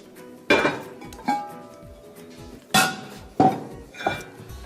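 A metal soup pot clanks and rings several times at irregular intervals, close by, with short resonant knocks between the louder clangs.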